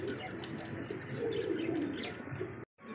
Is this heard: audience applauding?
no